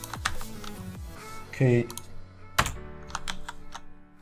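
Keyboard keys clatter in quick bursts, fairly close, with a voice speaking briefly over the typing.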